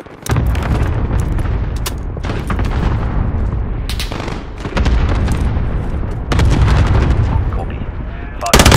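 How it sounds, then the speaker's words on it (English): Cluster strike explosions in a video game boom and crackle loudly in dense, rapid bursts mixed with gunfire, with a voice faintly audible beneath. "Good copy, cluster strike away."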